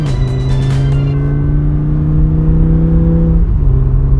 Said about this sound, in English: Now the car is driving away.